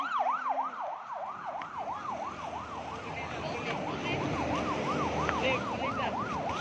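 An ambulance siren wails in a rapid rising-and-falling yelp, moderately close, over the rumble of passing road traffic.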